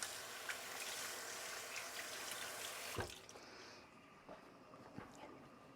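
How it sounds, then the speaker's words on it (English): Running water from a kitchen tap pours steadily as hands are rinsed at the sink, then shuts off abruptly, leaving quieter kitchen clatter and soft drips. "So I'm just going to rinse my hands"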